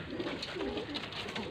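Soft, low pigeon cooing, close but faint, over a murmur of background noise; no wing flaps stand out.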